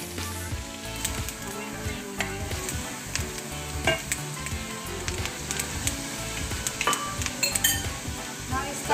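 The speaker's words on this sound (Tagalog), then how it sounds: "Add the ginger. Until brown," Ginger sautéing in a pan for buttered shrimp, a steady busy sizzle mixed with clinking utensils and pan scraping as it is stirred, close and continuous throughout.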